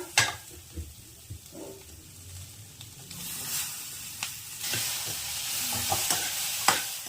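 Tomatoes tipped into a frying pan over onions and stirred, giving a soft sizzle with scraping spoon strokes and light clinks against the pan, all close and moderately quiet.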